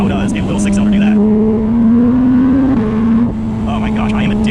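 A 2018 Porsche 911 GT3 six-cylinder engine with an upgraded exhaust drones loudly and steadily from close by. The pitch climbs slowly and then settles, and talk can be heard faintly over it.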